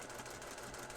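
A sewing machine runs a quarter-inch seam on a quilted trapunto wall hanging, giving a faint, steady, even whir with no pauses.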